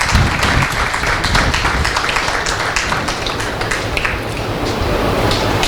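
Audience applause at an award ceremony, steady dense clapping that carries on evenly throughout without pause.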